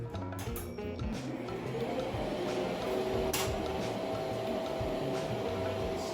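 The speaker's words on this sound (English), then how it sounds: "I'm going to turn on our machine." A seed-cleaning machine with spinning brushes runs steadily while maple seeds are fed through, giving a continuous mid-level mechanical whir and rattle with scattered clicks, heard alone.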